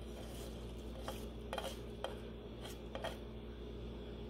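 A spoon stirring moringa (malunggay) leaves in a metal cooking pot, several soft scraping clinks at irregular intervals over a steady low simmering hum, fairly quiet and close.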